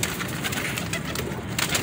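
Pigeon cooing in a loft of star pigeons kept for breeding, a soft steady murmur of several birds close by, continuous throughout with a few brighter calls near the end.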